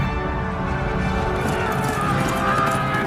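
Galloping horse hooves of the Rohirrim cavalry charging in battle, a dense continuous drumming of many hooves under a swelling orchestral score, with a narrator's voice heard faintly.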